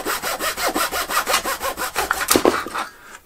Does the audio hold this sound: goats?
no